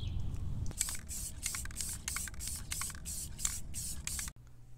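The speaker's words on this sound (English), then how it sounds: "Now I'm ready to apply our color coat, which is the gloss black by Rust-Oleum." Gloss black Rust-Oleum spray paint hissing onto mesh in a rhythmic series of about nine short, evenly spaced bursts, each a bright airy spray, close and steady, with no talk.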